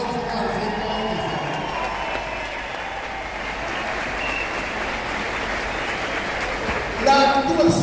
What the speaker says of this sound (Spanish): Vamos a hacer un aplauso para el 127.